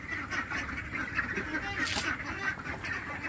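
Young ducklings, about 46 days old, quack and call as a dense, continuous chatter throughout, with louder overlapping calls near the middle; no talking.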